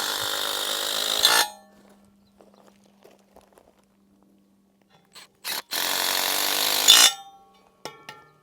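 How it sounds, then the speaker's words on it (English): A Makita Soft Impact driver drives fasteners during building layout work in two loud bursts, a short one at the start and a longer roughly two-second run later, separated by near silence with faint scattered knocks. "I like to use the Makita Soft Impact for this, because it just does a pretty good job."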